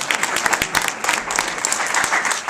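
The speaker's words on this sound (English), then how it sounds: "Yes, you can applaud that" Dense, sustained applause from an audience at a 2012 political campaign speech, many hands clapping together at close range, steady and fairly loud throughout with no talking.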